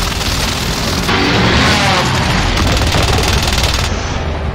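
Airstrike explosions and heavy gunfire roar in the video game Warzone Caldera, a loud, dense, continuous barrage of booms and rattling shots with no pauses.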